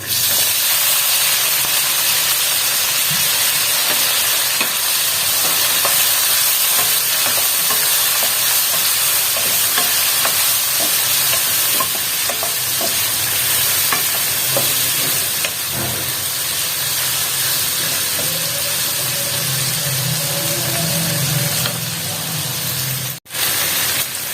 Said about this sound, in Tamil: நான் காய் வந்து வதக்கும் போதே வந்து உப்பு சேர்த்துக்கிறேன்.